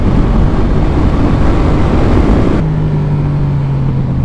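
Yamaha MT-07 motorcycle engine heard while riding, a loud continuous roar mixed with heavy wind rush, settling into a steadier lower drone partway through as the rider eases off.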